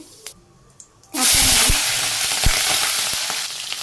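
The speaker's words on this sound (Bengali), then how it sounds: "তেল গরম হয়ে গেছে আমি মেথি আর জিরে দিয়ে দিলাম একসাথে" Fenugreek and cumin seeds hit hot oil with a sudden loud sizzle that bursts in after a second of quiet and keeps hissing steadily, with a few pops and crackles, close by.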